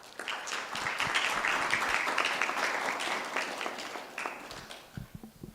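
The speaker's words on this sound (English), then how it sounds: "I'd like us to once again give Governor Nyong'o another hearty clap." Hearty audience applause for a governor at a democratic transitions dialogue forum, dense clapping that swells early, holds steady, then thins into scattered claps near the end.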